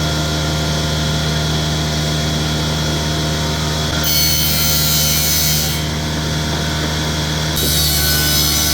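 A sawmill saw runs loud and continuous through wood, with a constant machine drone whose high whine surges twice as the blade bites into the cut.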